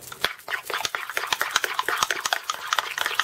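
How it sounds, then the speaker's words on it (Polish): A spoon scrapes and clinks against a bowl while stirring a small vanilla sugar sauce made with half a spoonful of sugar, quick close metallic taps in an uneven rhythm, with faint soft voices behind. "Pół łyżki cukru i z tego robię taki sosik, mieszam."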